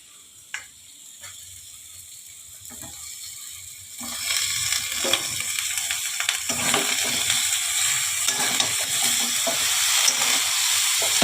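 Vegetables tipped into a hot frying pan for a fish-head chhyachra, a quiet start giving way to a loud, continuous sizzle with stirring scrapes, close and steady, no one talking.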